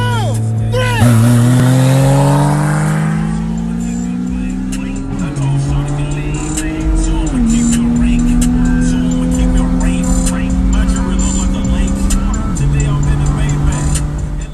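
A manual-swapped Dodge Stratus accelerates hard through a pull, its loud engine climbing steadily in pitch with distinct drops at each gear shift, continuous and close.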